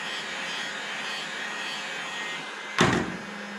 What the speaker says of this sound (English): Gotta be careful, you hold the heat gun too long on it, it starts to melt on you.